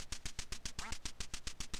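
Repeated electronic duck quacks from the Duck Hunt video game, about a dozen evenly spaced bursts in a steady rhythm, loud and alone.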